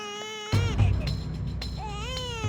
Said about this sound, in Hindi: नहीं नहीं, सच में ये किसी छोटे बच्चे की रोने की आवाज है।